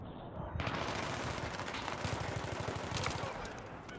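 Rapid bursts of automatic gunfire from the Battlefield game on Kharg Island, as infantry and a tank shoot, rattle in dense, loud volleys, with sharper repeated shots clustered near the middle and end.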